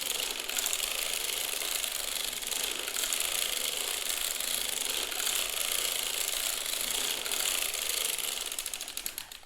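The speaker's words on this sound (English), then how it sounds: "So now I'm going to go ahead and crank a few rows, maybe 10" A circular sock knitting machine with a ribber is cranked through several rows of a ribbed sock, giving a steady, dense mechanical clatter and ratcheting that runs continuously and close by, tapering slightly at the end.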